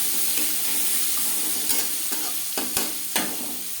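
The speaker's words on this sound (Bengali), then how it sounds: "পেঁয়াজ রসুন তাড়াতাড়ি ভাজা হওয়ার জন্য" Steady sizzling hiss of onion and garlic frying in oil, with a few sharp scraping stirs toward the end.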